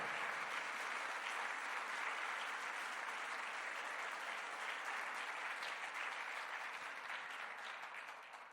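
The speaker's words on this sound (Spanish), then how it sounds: "Si va a darle un aplauso al Señor, que sea con más fuerza." A church congregation bursts into a long, dense round of applause during a worship service, sustained and even throughout before gradually tapering off at the end.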